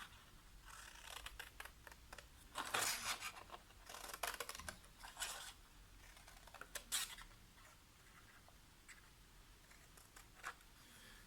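Scissors snip through card paper for a scrapbooking turntable card, a quiet run of close, crisp cuts and rustling of the card with short pauses between, and no talk.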